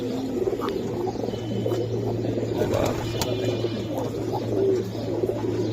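Giribaz pigeons coo softly in a loft among general bird chatter and a low steady hum, scattered murmuring calls close by without any talk.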